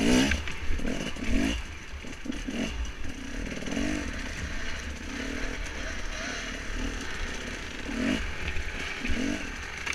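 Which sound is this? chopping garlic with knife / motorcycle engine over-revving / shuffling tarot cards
motorcycle engine over-revving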